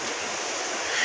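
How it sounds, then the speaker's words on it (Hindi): Loud rushing river water makes a steady, dense roar that fills the scene evenly, close and constant, with no voices. "यहाँ पर दरिया की इतनी तेज़ आवाज़ है"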